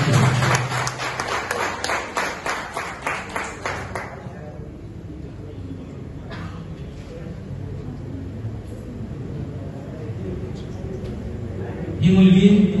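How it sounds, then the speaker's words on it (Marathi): An audience at an office program claps in a steady, rhythmic beat to welcome a singer, the applause fading after a few seconds into a speaking voice over a quieter room. "त्याबद्दल आपण जरूर टाळ्या वाजवून तिचं स्वागत करू।"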